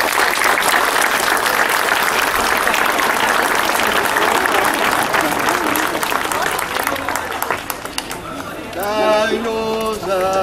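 A crowd at an outdoor Nossa Senhora Aparecida procession claps loudly and steadily, a dense wash of applause that thins toward the end as voices and singing rise over it.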